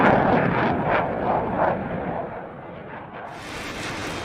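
A missile strike on an F/A-18 jet produces a loud, rolling explosion with a broad roaring burst that decays into a sustained rumble before a brighter hiss rises near the end.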